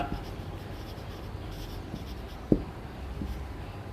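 Pen or pencil writing by hand on paper while a math problem is worked through: soft, quiet scratching strokes with one sharper tap, close to the microphone, in a calm room with faint background hum.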